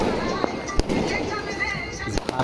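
Firecrackers going off during Chhath Puja on Gola Road in Patna, Bihar: several sharp cracks at uneven intervals, one loud near bang and others further off, echoing over a dense crowd murmur and background voices.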